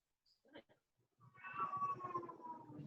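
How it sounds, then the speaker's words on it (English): A cat meows once in a long, drawn-out wavering cry, preceded by a few faint soft sounds, close and fairly quiet. "Oh, I hear a kitty."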